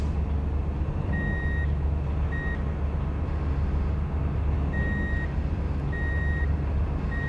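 Repeated reversing beeps from a truck backing up to a trailer in Truck and Logistics Simulator, a steady high tone pulsing in short bursts over a constant low engine rumble, with no talk.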